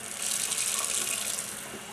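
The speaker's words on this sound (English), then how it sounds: "Turn on some hot water here." Hot water runs steadily from a kitchen sink faucet, a continuous close hiss and splash that holds at an even level for about two seconds with no talking.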